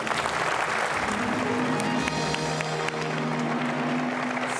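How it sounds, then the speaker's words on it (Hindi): Steady studio audience applause on a Bhojpuri-language KBC quiz show set, dense and continuous throughout with a faint tonal music bed underneath. "बजाई ताली।"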